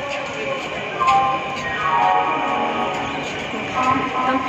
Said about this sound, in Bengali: তো ফাইনালি মেট্রো পাওয়া গেল।